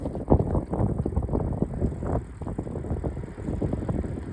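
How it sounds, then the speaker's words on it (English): Bicycles ridden outdoors in the garden during red flag warning conditions give a steady rolling rumble with tire and chain rattle, heavily buffeted by wind noise on the microphone, with no talking. "We've been riding bikes."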